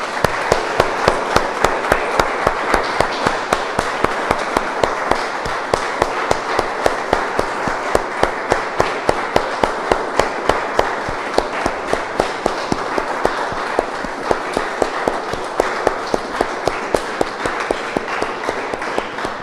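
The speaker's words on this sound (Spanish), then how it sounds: "Damos un aplauso, hermano, Señor." A church congregation applauds steadily and loudly, dense clapping that continues without pause from start to finish with no voices over it.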